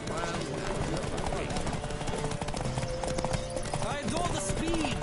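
Rapid clip-clop of galloping hooves thunders throughout a horse race in a video game, with voices and busy background noise layered over the steady beat.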